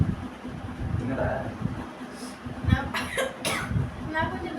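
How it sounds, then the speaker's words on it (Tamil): A few harsh coughs come instead of a sneeze after a pinch of snuff, mixed with murmured talk and a little chuckling nearby. "தும்மலுக்கு பதிலா இருமல் வந்துருச்சு."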